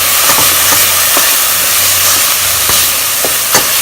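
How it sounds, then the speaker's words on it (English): Onion sautéing with ginger and garlic paste in a pan: a loud, continuous hiss and sizzle, with a few faint clicks of a utensil and no talking. "So I've added a tablespoon of ginger and a tablespoon of garlic after about 7 minutes of sauteing the onion."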